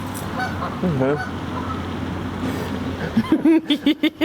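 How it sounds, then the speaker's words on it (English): Geese honk loudly overhead, first a few scattered calls, then a rapid series of sharp nasal honks close by as the flock passes. "Another geese flyby. Yo, a flyby for real."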